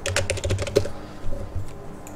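Someone types AutoCAD commands on a computer keyboard, producing a quick close burst of clicky keystrokes followed by a couple of isolated presses.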